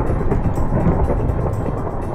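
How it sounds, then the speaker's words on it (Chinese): Steady rain in the Minecraft video game, a dense continuous low rumbling wash with soft patter, loud and even throughout with no talking over it. "除了下雨，我几乎没有听到什么。"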